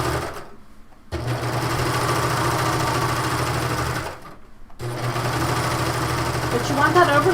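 A serger sewing machine overlocks the finished neck edge of a fabric top, running in two steady mechanical bursts with a short pause between them, close and loud with a constant motor hum.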